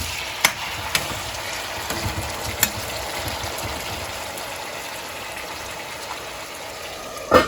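Chicken pieces for mint chicken fry sizzle in a pan with a loud, steady hiss, broken by a few sharp clicks and a clank near the end.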